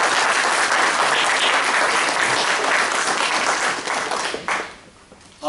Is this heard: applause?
yes